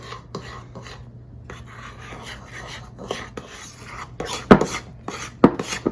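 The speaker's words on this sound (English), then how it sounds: "And then I'm just going to use a large spoon. I'm not going to use beaters on this." A large spoon works thick peanut butter brownie batter by hand in a bowl, giving a rough, scraping rasp with irregular strokes and a few sharper knocks against the bowl toward the end.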